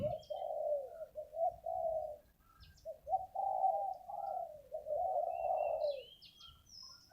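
A spotted dove used as a decoy bird coos in a series of soft, repeated hooting phrases with short gaps between them, set against a quiet outdoor background with faint distant bird chirps.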